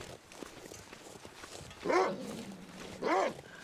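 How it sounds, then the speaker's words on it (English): Wolves in the survival game The Long Dark give two short, wavering howls about a second apart, rising over a quiet windy background. "I hear you, wolves."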